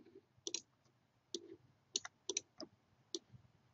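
Sharp plastic clicks from a computer keyboard's shift key and mouse, arriving in quick irregular pairs and singles at close range, with no voices.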